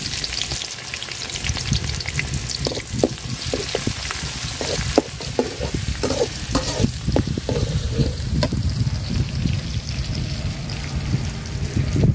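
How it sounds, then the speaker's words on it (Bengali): Chopped onion and garlic fry in oil in a pan, a loud continuous close-up sizzle with a crackling, bubbling texture and occasional stirring clatter throughout. "তো পেঁয়াজটা আর রসুনটা আমি লাল লাল করে ভাজা নিছি"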